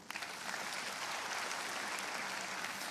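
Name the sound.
congregation applauding for God in church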